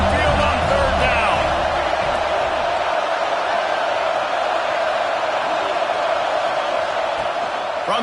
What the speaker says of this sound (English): The Tide crowd, roaring noise down onto Saban Field on third down.